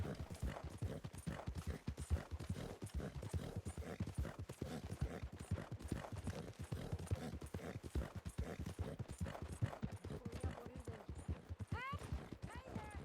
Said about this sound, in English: the horse in front went past you as well